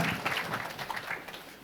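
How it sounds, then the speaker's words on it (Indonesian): A church congregation at an Indonesian service claps briefly, a quiet, uneven patter of hands lasting under two seconds. "beri tepuk tangan buat tim kita ini"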